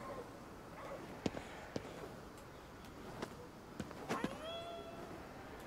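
A cat in GhostWire: Tokyo meows several times in short separate calls, rising and falling, over a soft noisy background with faint clicks.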